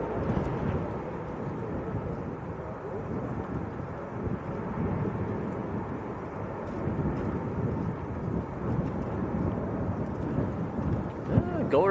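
Airliner performing a go-around at Manchester Airport, a deep, rumbling roar of jet engines rising in loudness, heard outdoors from a distance with wind buffeting the microphone and voices talking over it.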